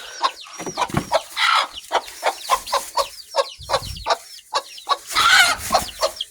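Several chickens cluck and squawk in quick, uneven bursts close by, with a few louder fowl calls rising above the steady farmyard chatter and no talking.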